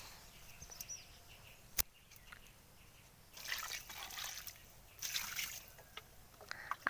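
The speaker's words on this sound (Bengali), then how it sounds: "আর এবারে একটু জল দিয়ে দেবো, যেহেতু খাবারটা একদমই শুকনো।" Water is poured over dry organic feed mix around jujube (kul) plants growing in fruit crates, giving two faint, short splashy trickles amid quiet outdoor background with a few small clicks.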